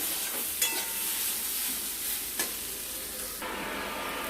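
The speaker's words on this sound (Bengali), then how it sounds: "এবার আমরা দিয়ে দিলাম জল দিয়ে" Water poured into a pan of small fish frying with potato, pointed gourd and green banana sets off a steady, loud sizzling hiss that shifts in texture partway through, with a couple of brief clinks.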